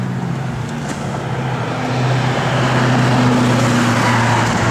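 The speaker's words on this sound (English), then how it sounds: "Car goes nice and straight down the road." A 1969 Chevrolet Nova SS drives down the road, its steady engine hum and road roar heard from inside the car and building slightly in loudness, with no talking.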